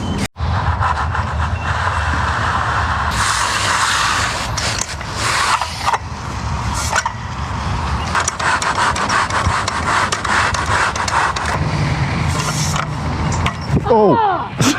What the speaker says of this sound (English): I'm just going to take this tuck pointing trowel and scrape off my expansion